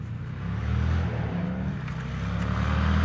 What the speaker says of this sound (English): across the way I can already hear classic engines starting up